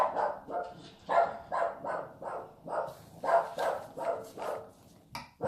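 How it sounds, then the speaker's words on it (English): A pet dog barks repeatedly indoors in a steady run of about ten barks, moderately close and fairly loud, with short gaps between each bark. "my dog's barking as usual"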